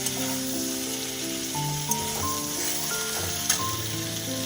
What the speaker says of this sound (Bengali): এইগুলো আমি হালকা লাল লাল করে ভেজে তুলে রেখে দেবো।